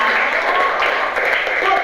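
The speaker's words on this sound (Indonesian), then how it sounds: "Kasih tepuk tangan untuk Mawar." Applause for a girl named Mawar in a classroom lesson: a short patter of clapping from a group, steady and fairly close, with a voice speaking over it.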